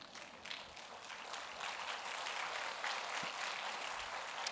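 An audience claps together in a church service, a dense, steady patter of many hands building slightly and holding at moderate loudness, with no talking over it.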